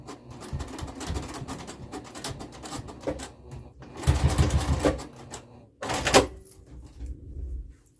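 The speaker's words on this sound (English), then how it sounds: "I'm gonna sew about the 1/8 of an inch down and just finish my book sleeve" A sewing machine stitches a fabric book sleeve in short bursts of rapid mechanical whirring, stopping and restarting, with a louder run near the middle and a brief clack toward the end.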